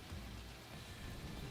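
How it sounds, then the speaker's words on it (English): Heavy rain in the video game The Division, a steady, dense hiss of downpour with a low rumbling underlayer, faint and continuous with no voices. "Heavy rain."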